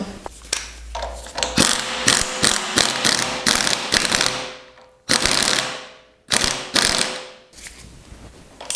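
A screw being refitted on a Peugeot 205 GTI 1.9 engine, with rapid ratcheting clicks in several bursts separated by brief pauses, loud and close.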